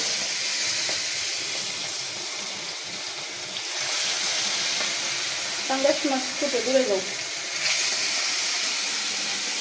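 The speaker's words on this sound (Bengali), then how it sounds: "মাছ কাটলাম ধুইলাম আবার ভাজতেছি" Pangas fish sizzles as it fries in a pan at home, a continuous close hiss with brief clinks and scraping partway through, and a voice speaking faintly beneath.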